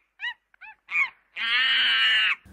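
A cockatoo squawks at a zoo, giving a few short honking calls and then one long, harsh, sustained screech.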